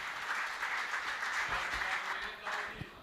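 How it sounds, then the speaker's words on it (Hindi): Audience applause at a Hindi poetry event (kavi sammelan): steady crowd clapping throughout, moderately distant and fairly even, with a few louder individual claps near the end. "ये कमजोर तालियां हैं, जोरदार तालियों के बीच में"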